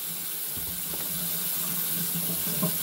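A kitchen tap runs steadily into a sink full of dishes, a loud, even rushing flow close by that continues without a break, with no voices over it.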